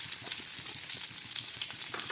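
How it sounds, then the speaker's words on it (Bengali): Butter melting and sizzling in a kadai on the stove before chicken is fried in it, a steady close crackle with small pops and no talking. "একটা কড়াই বসিয়ে দিয়েছি, তার মধ্যে আমি দিয়ে দিচ্ছি কিছুটা বাটার।"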